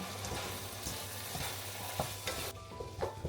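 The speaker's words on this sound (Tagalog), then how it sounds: "maglagay lang ako ng madaming butter guys" Plenty of butter sizzles and fries in a pan, a close, steady crackle with a few stirring scrapes and clinks throughout.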